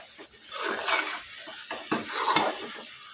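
A spoon scrapes and clinks against a pan as sugar is mixed into a vegetarian cabbage curry, irregular stirring strokes over a faint sizzle, close and moderately loud.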